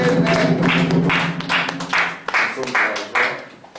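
A church congregation claps in rhythmic bursts during a service, loud and close. Voices and singing run underneath, and the clapping stops and starts unevenly.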